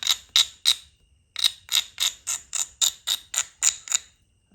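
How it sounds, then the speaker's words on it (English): Stone flake edge being abraded to restore its bevel during flintknapping, heard as about a dozen short, crisp scraping strokes in quick rhythmic succession, close and fairly loud, with a brief pause after the first three. "I'm gonna just brush down, reestablish my bevel a little bit."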